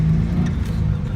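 A manual-transmission car pulls away in first gear with the engine pushed hard, producing a steady, loud, close engine drone from inside the cabin.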